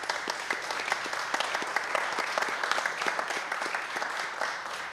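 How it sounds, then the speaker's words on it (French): Sustained applause from an audience welcoming guests at a museum event, a dense crowd of close clapping that holds steadily for the whole stretch with no talking over it. "Mesdames, Messieurs, j'aimerais qu'on applaudisse nos invités."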